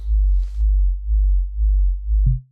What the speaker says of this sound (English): And that is a rather big sub sound there.